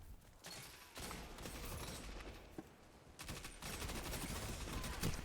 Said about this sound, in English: Oh, SMG shot.